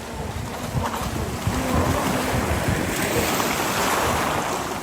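An RC jet ski model running slowly on a 2S LiPo across open water, its small motor buzzing steadily over the wash of waves and gusty wind noise, fairly close and continuous.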